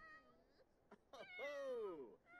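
A cat in a cozy life-sim video game lets out a few meows that build into a long, loud, wavering cry, near and alone over a quiet background.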